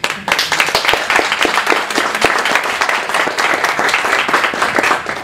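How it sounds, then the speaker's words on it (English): Steady applause from a crowd at the close of a press conference, many hands clapping in a dense, continuous patter that stays loud and fairly close throughout, with almost no talk over it. "Was that Doug Kaufman clapping?"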